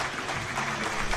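A crowd at a para powerlifting European championship in Eger applauds lifter Daniel Simon, a dense, steady wash of clapping that carries through the whole short moment.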